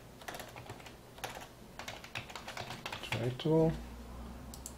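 Quick bursts of computer keyboard typing sound at a moderate distance while someone talks over them, with a louder thump near the end.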